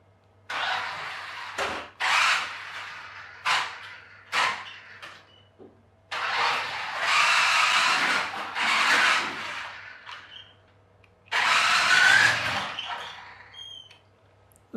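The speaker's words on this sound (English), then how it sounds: "Those wheels are actually gripping much better than I expected." A New Bright Hummer H3 40 MHz radio-controlled toy car drives in repeated bursts, its small motor whining in short and longer runs close by, with scraping wheel and ground noise.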